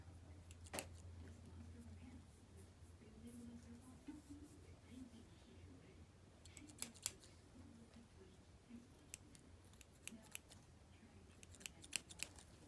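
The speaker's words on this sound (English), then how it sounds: "I'm cutting off the excess skin that's hanging and is ready to be removed." Small scissors trim excess hanging skin from a foot during a pedicure, giving faint, close, irregular snips over a quiet low hum.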